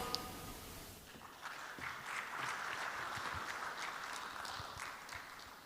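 A crowd claps after a speech at a program launch event, moderately distant, steady applause building after a brief pause and continuing throughout.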